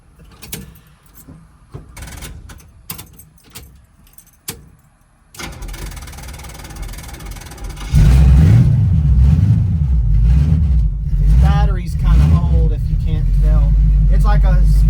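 A Vortec 350-swapped Oldsmobile Cutlass Supreme G-body beater cranks and fires after a few faint clicks, idles, then roars louder as it pulls away and revs up through rising, sweeping engine tones, close and steady to the end.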